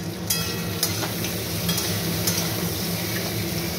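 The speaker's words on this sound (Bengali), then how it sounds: "এবার দেখুন দিয়ে দিলাম একটু বড়ি" Bori lentil dumplings fry in hot mustard oil, giving a steady, close sizzle with faint stirring scrapes and a few light clinks of a utensil against the pan.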